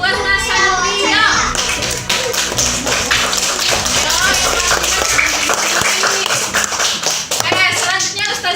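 Children in a classroom clap their hands in a loud, rhythmic burst of sharp taps that fills the whole stretch, with kids' voices and chatter mixed in under the clapping.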